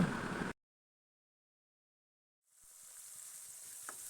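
Crushed ginger, garlic and shallots with curry leaves sauté in coconut oil in a pan. A brief loud burst cuts to silence, then a faint, soft sizzle gradually swells and holds.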